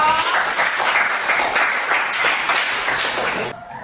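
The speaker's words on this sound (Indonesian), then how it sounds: "Oke, tepuk tangan dong." Classroom applause after a student's summary in an Indonesian lesson on bullying: dense, steady clapping from a room of students, fairly close and loud, continuing for a few seconds before tapering off abruptly near the end.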